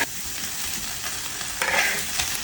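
Beef sizzles and is stirred in a hot wok after high-proof baijiu has been added, making a steady frying hiss with a louder scrape-and-sizzle burst partway through, with no talking.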